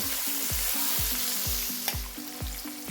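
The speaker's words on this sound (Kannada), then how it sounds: "ಈಗ ಲೈಟಾಗಿ ಫ್ರೈ ಮಾಡ್ಕೋಬೇಕು ಕ್ಯಾಪ್ಸಿಕಮ್ ಹಾಕಾದ್ಮೇಲೆ ಸ್ಟವ್ನ ಲೋ ಫ್ಲೇಮಲ್ಲಿ ಇಟ್ಕೋಬೇಕು" Capsicum sautéing in a pan on a low flame makes a constant, close sizzle, with rhythmic spatula strokes about twice a second scraping across the pan and no voices.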